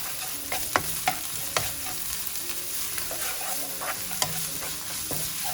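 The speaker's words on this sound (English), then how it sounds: "in goes our grated ginger and grated garlic, and cook for another minute or so" Grated ginger and garlic sizzle in a hot pan over golden fried onions as a spoon stirs, the steady frying hiss broken by a few sharp scraping knocks, close and alone without talk.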